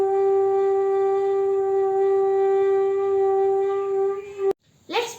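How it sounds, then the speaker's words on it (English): A sustained G-scale bansuri flute note held steadily for over four seconds with a rich stack of overtones, ending abruptly followed by a brief breathy sound. "This is G-scale bansuri."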